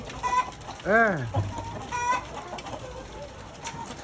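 Chickens clucking at close range, with a rising-falling call near the start and softer clucks following, over outdoor background noise and no clear talk.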